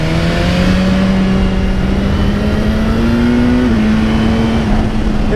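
BMW S1000R 2018 motorcycle engine revving hard under load with quickshifter gear changes, a steady loud droning tone that climbs and briefly dips at a shift, with no talk.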